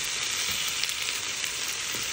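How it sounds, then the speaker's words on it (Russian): Food sizzling and frying on parchment paper in a pan, a steady bright crackle holding at an even level throughout with no voices. "Действительно, ничего не брызгается, жарится."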